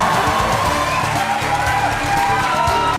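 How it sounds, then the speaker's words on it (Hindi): An audience cheers, whistles and claps in a loud, sustained crowd roar honoring Shah Rukh Khan, with whoops and rising whistles over the din until it cuts off. "लोग खड़े हुए, सीटियां बजाई, तालियां बजाई"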